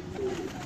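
A Sialkoti pigeon lets out a single short, low coo, close by and over a soft background hum.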